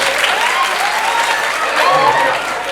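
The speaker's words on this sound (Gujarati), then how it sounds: "એકવાર હિતેશભાઈને જોરદાર તાળીના ગણરાટ સાથે વધાવો" Loud, dense applause from a crowd greets a performer at a village folk dayro for a Mahadev temple gathering, continuous throughout with faint voices underneath.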